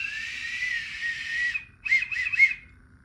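A toy whistle from a Harry Potter wizarding unboxing box gives a sustained shrill tone for about a second and a half, then three short warbling toots, loud and close with no talking.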